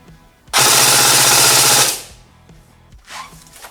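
A Cyma MK12 SPR gel blaster fires a burst through a chronograph, a loud buzzing mechanical rattle lasting over a second, then cutting off, followed by quieter handling noise and a faint hiss.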